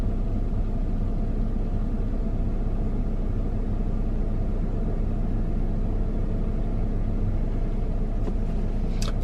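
Steady low rumble inside a moving car, continuous and fairly loud with road noise throughout, and a couple of faint brief ticks near the end.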